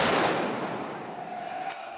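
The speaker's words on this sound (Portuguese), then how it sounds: "A cerimônia na Arena Condá terminou com uma salva de tiros, honra militar dispensada apenas aos heróis da nação." A military gun salute volley at a memorial ceremony at Arena Condá stadium sounds as a loud blast, then rolls away in a fading echo.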